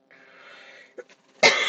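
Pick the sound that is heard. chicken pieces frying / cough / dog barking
cough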